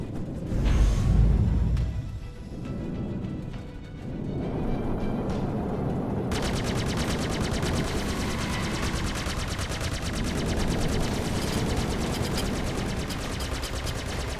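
Gunfire striking a ship's rear shields in Star Citizen: a heavy boom opens, then a continuous rapid rattle of shots and impacts pours on steadily over a low engine rumble.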